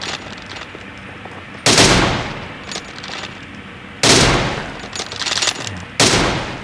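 Gunfire in a mobile shooting video game, set in a pistol and M24 sniper duel: three loud, sharp broadband shots about two seconds apart, each with a short ringing tail, over steady low background game ambience.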